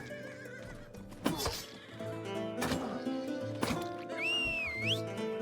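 A horse in the video game Rustler lets out a loud rising-and-falling whinny near the end, preceded by several sharp thuds and game sounds over a steady background.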